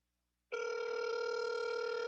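Telephone ringing over a speakerphone after a moment of silence, a steady electronic ring tone that holds loud and unbroken to the end, with no voices.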